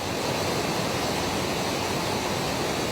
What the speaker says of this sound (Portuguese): O volume de água na usina do Gafanhoto em Divinópolis impressiona